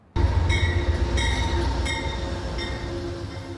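An Amtrak Lincoln Service passenger train at the Bloomington-Normal station in Illinois gives a loud, steady rumble of rolling wheels with faint metallic squeals and clicks.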